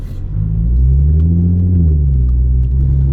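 Supercharged Audi S4 cruising on a road at about 30 mph, its engine giving a steady, loud low rumble with slight shifts in pitch, close and continuous throughout, with no talk.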